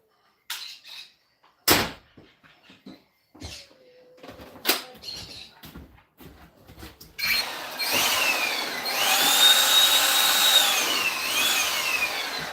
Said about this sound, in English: I got the blower, need a battery